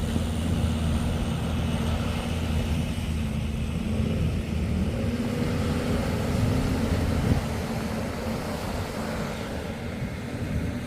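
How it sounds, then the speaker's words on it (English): Steady low rumble of a 9-meter Benn catamaran powered by twin Suzuki 250 V6 four-stroke outboards, running continuously and fairly loud with engine and water noise throughout, no talk. "9-meter Benn cat with two 250 V6 4-stroke Suzuki's on the back, floating nicely."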